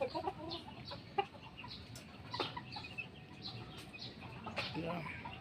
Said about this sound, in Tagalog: Ang ating mga alagang mga sisiw ng mga nakaraan ngayon, malaking laki na.